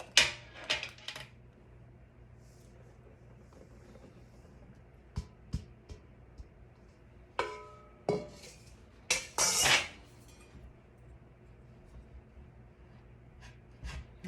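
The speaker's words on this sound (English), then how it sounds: "I'm going to cut it in with my pastry blender right here" A pastry blender cuts flour and salt into lard in a bowl, giving scattered scraping clanks and taps against the bowl in irregular bursts, close and fairly crisp with quiet gaps between.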